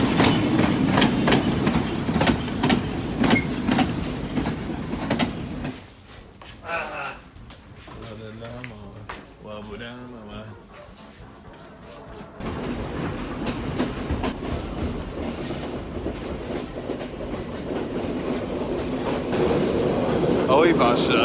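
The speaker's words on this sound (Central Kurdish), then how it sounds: "ئەوە قیتارەکە گەیشتن" A train pulling into a station in Sri Lanka, steady loud rumble and clickety-clack of railcars, easing briefly in the middle before the heavy rolling noise returns, with voices talking over it.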